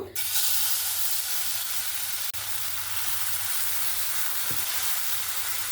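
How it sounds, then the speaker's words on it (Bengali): Batter hits hot oil in a pan and sizzles loudly, a continuous frying hiss that holds steady with a brief scrape partway through. "তেলটাকে হালকা একটু গরম হতে দেব। গরম হয়ে গেছে। ব্যাটারটা এখানে দিয়ে দেব।"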